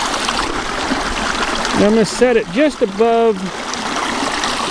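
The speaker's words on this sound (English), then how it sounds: "a lot of water is coming over this crossover" Creek water pours over a crossover in a small creek, a steady broadband rush that runs under the whole stretch while someone speaks briefly in the middle.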